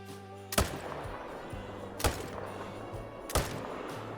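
Hunting rifle shots in the hunting game theHunter Call of the Wild, three sharp, spaced cracks with short echoing tails over a steady outdoor ambience and a low hum.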